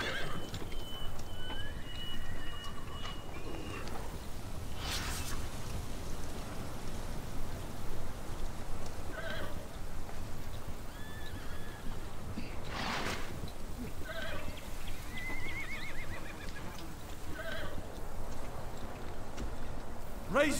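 Horses of the Rohan riders in The Lord of the Rings: The Battle for Middle-earth clop steadily, with several drawn-out neighs rising above a continuous hiss like rain. Voices are faintly present.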